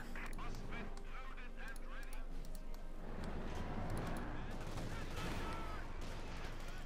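Light machine gun fire crackles in a Company of Heroes 2 battle, sustained bursts rattling under busy game noise and overlapping with a commentator's talk.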